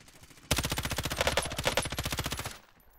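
Sustained automatic gunfire in Call of Duty Warzone, a rapid two-second burst of evenly spaced shots, loud and close, that starts abruptly and cuts off into quiet.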